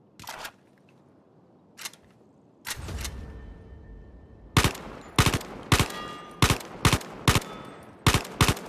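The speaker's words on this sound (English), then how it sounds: "Grab that rifle, button. Cock it, and shoot the targets." Rifle gunfire in the VR shooter Zero Caliber VR: a few scattered single shots, then a quick run of about nine sharp, loud cracks at a steady rhythm, with no talking.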